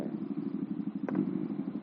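Honda Astrea Prima motorcycle converted to a two-cylinder engine, throttle twisted: a steady mid-pitched engine throb with a brief rev surge near the middle, close and fairly loud.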